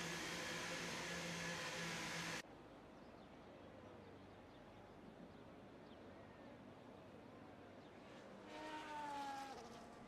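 A Ferrari race car's engine whines at high revs in a racing video game at the Austria circuit, loud at first, then cutting to a low rumbling ambience before another engine drone rises near the end.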